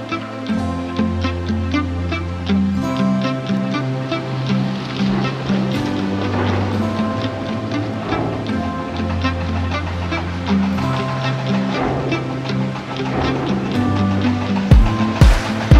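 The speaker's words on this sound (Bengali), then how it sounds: "তো এই মুহূর্তে জেটিটা আসছে ওপার থেকে" A river ferry crossing toward the jetty in the Sundarbans gives a steady, loud engine drone with a low rumble and a layered hum that holds throughout, with a brief knock near the end.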